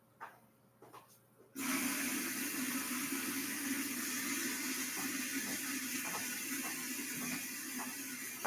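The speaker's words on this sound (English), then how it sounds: "Then we go cut the water on." A tap switched on for an aquarium water change with a Python hose, a few faint clicks, then a sudden steady rush of running water that hisses on continuously and loud.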